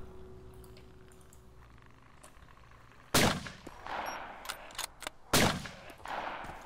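Gunfire at zombies in the survival game DayZ: after a few quiet seconds, two sharp, loud shots ring out about two seconds apart, with lighter clattering and ringing echoes between and after them.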